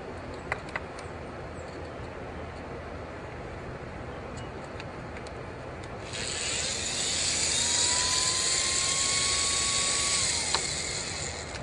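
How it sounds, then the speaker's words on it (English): A small drill motor powered entirely off a solar panel spins up and whines steadily for several seconds over a constant background hum, then stops. "Let's see if it'll do a drill motor."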